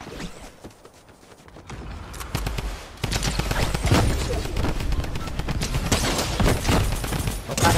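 Dense gunfire and bursts from the Fortnite Reload video game, rapid overlapping shots and booms that grow louder after a quieter opening and stay loud and continuous to the end.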